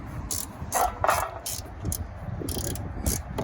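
Ratchet wrench working on a motor mount bolt of a Murray 8/24 snowblower, giving a few quick clicking bursts at close range over a low background rumble.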